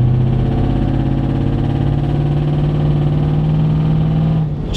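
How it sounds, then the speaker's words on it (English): A truck engine with its exhaust stuck open runs loud and close, a steady low rumbling drone that holds evenly before easing slightly at the end. "And the exhaust is stuck open for some reason."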